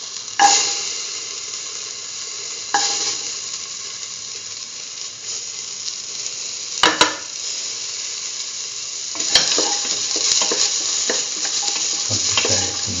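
Shallots sautéing in a pan for a potato cucumber stew, a loud steady sizzle with a few sharp utensil scrapes and taps as they are stirred, no voices.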